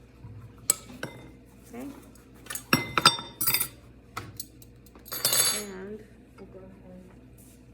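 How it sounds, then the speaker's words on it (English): Metal spoons clink and scrape against a muffin tin and bowl while basic muffin batter is dished out, a scatter of sharp bright taps and chinks, with someone briefly speaking between them. "let me grab a couple of spoons and we will go ahead and dish these out"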